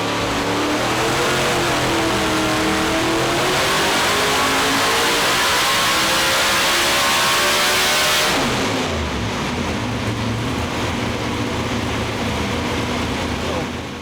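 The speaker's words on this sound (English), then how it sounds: "This is big block Ford power." A big block Ford engine on a dyno revs hard and loud, climbing steadily in pitch before dropping off and settling into a lower, rumbling run.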